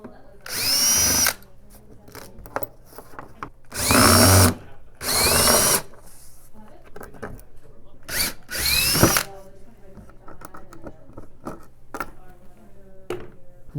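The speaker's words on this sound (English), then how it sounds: "Remove those bolts." A power drill backs bolts out of a wood panel on a heat press, four or five loud whirring bursts separated by quiet gaps with small clicks and knocks of handling, close by.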